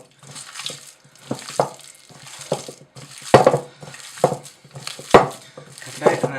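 A hand working minced lamb kofta mixture in a bowl, with wet squelching and slapping bursts in an irregular rhythm, close and fairly loud, under faint talk.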